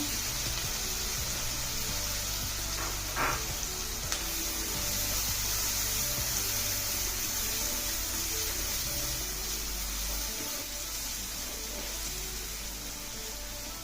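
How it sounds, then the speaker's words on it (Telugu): Thinly sliced onions fry in oil for an egg gravy curry, giving a steady, even hiss of sizzling that stays close and unbroken, with no talk. "అదే ఆయిల్లో ఉల్లిపాయలు సన్నగా తరిగి పెట్టుకున్న ఉల్లిపాయ ముక్కలు వేద్దాం"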